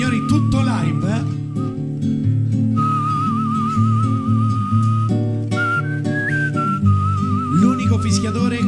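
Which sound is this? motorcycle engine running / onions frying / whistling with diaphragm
whistling with diaphragm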